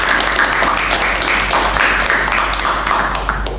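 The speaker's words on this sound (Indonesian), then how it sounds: "Kita berikan aplaus ya untuk kelompok 1." A classroom group of students applauds a presenting group, steady dense clapping filling the room for a few seconds without speech.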